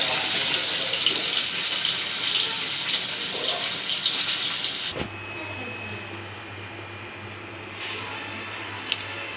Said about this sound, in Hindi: इनको फ्राई कर रही हूँ।